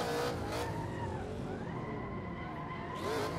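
Simulated car drifting in Assetto Corsa, with a clutch kick on a BMW: a continuous engine roar with rising and falling revs, tire skid noise throughout, and a steady loud racing-game mix with no talk.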